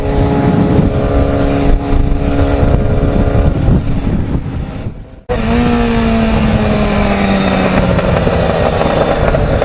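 A Yamaha FZR 600 motorcycle with an obnoxiously loud exhaust roars up close with a rough, throaty note, briefly dropping off before revving again as it rides along under wind noise.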